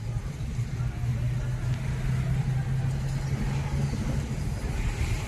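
Driving-school car engine running steadily while shifting into second gear, a constant low hum with an instructor talking over it throughout.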